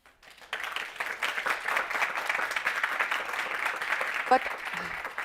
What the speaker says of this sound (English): I think they deserve a real warm-hearted applause.